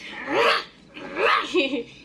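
A person imitates a dog barking on request, two drawn-out, breathy vocal bark-like sounds close to the listener, the second trailing into a rougher rasp.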